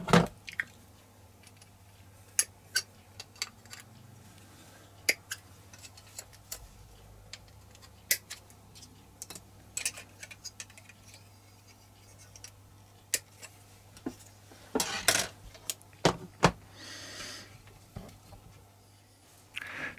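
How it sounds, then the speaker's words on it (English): Plastic speaker enclosure parts for a model locomotive being snipped from the sprue, small sharp clicks and snaps scattered across a quiet background, with a denser cluster of cuts near the end. "So we've cut out the plastic from the sprue"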